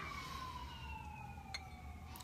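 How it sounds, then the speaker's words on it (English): Distant sirens wail steadily, their pitch gliding slowly downward over a constant background hum, with a brief click partway through. "Sorry about the sirens."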